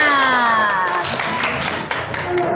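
A class of junior high students claps together, a brief burst of scattered applause that fades out after a couple of seconds, with some tonal sound fading underneath.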